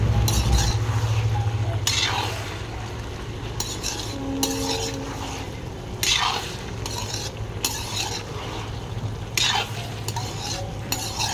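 Fish frying in a pan while a metal spatula stirs and scrapes it, giving repeated clinking scrapes over a continuous close sizzle.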